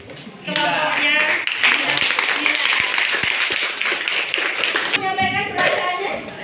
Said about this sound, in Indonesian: beri tepuk tangan untuk kelompoknya